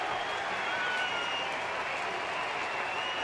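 A baseball stadium crowd of about 36,000 on its feet during a two-strike count in an Atlanta at Philadelphia game roars and applauds in a steady, dense wash of cheering that fills the whole stretch without letting up.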